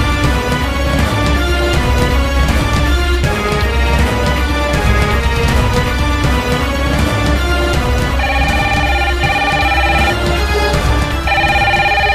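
A telephone rings loudly and repeatedly in an electronic ringtone pattern, the tones cycling steadily throughout with no voices.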